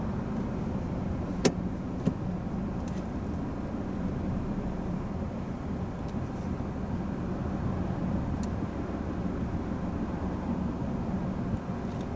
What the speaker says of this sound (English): A lot of traffic around. Loads of cars.